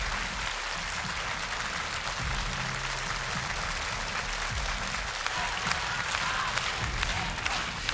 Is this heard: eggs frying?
no